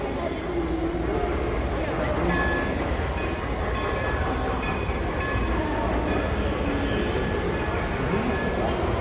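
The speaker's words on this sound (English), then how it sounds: "Look at this train coming by." A model train rumbles past close by at the Museum of the American Railroad in Frisco, Texas, with continuous clattering and mechanical noise, steady and loud throughout, with people talking faintly underneath.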